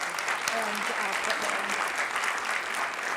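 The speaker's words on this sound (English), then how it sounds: "please join me in a round of applause for Inga" An audience applauds at a media innovation discussion event. The clapping is dense and continuous, with faint voices mixed in underneath.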